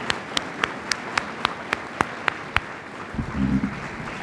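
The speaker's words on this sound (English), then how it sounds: "Let's give them another round of applause." Applause after an 8th grade band and chorus performance at a school Veterans Day program: sparse, fairly distant clapping with a few distinct claps in a steady rhythm, fading out as a low murmur and a voice come in near the end.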